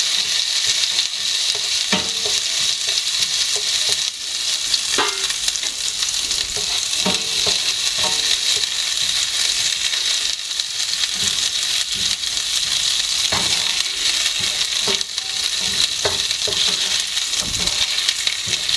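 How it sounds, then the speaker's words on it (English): Ginger garlic paste fries in hot oil with a loud, steady sizzle, broken by occasional scraping stirs of a utensil in the pan. "Now as the oil is hot, I'll add this ginger and garlic paste."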